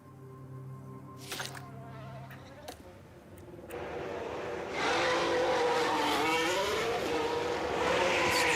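F1 cars run in qualifying in a modded F1 Manager 2013 at the South Korea round. A few short electronic tones come first, then a loud, steady engine whine rises and shifts pitch as the cars scream past.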